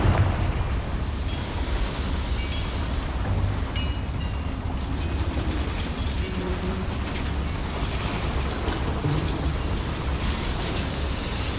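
The Confringo fire spell bursts in Hogwarts Legacy inside a mine, a dense roaring rumble with crackling flashes that stays loud and continuous throughout.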